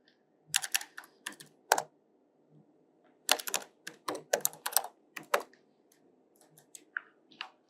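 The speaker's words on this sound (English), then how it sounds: "So first we have to type inside this." Keys on a computer keyboard are tapped in short bursts of crisp, close clicks, with pauses between clusters and no talking.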